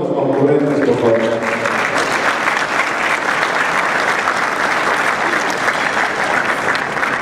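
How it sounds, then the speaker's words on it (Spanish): Audience applause fills a ceremony hall during an installation event of the Mazatlán chamber of commerce, a dense, steady wash of many hands clapping with a voice speaking over it at the start. "Un aplauso a todos nuestros concurrentes, por favor."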